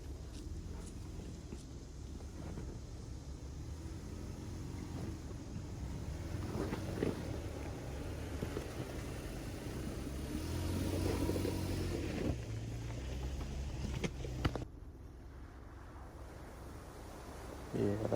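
A 3rd gen Toyota Tacoma crawls over rocks off-road, its engine rumbling low and surging in slow revs, with scraping and knocks around the truck and voices now and then.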